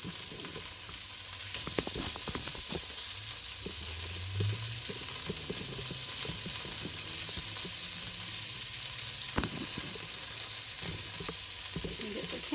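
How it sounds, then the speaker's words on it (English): Beef patties for Salisbury steak brown in a frying pan with a constant, close sizzle and spatter. Scattered crackles and an occasional utensil tick sound over it. "let's look at our patties. They're getting nice and brown."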